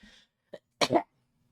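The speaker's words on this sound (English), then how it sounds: "Excuse me, I had a cough there." A single harsh, throaty cough follows a brief vocal sound, then quiet.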